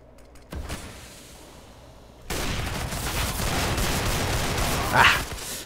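Desert Eagle pistol fire in a ranked Counter-Strike: Global Offensive match: a sharp report, then a louder, dense burst of gunfire noise that carries through to the end, with one bright crack near the finish.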